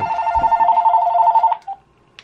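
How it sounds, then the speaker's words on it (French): A telephone rings indoors, one long electronic trill lasting about a second and a half, loud and close, followed by a short faint chirp and a small click. "le téléphone sonne"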